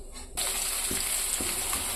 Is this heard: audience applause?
no